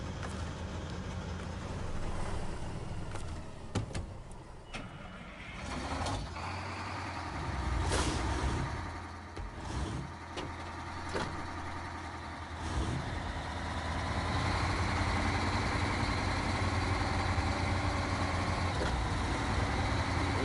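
A truck engine idling steadily in SnowRunner, a continuous low rumble with a few brief clunks and hisses partway through, then a fuller, steady drone.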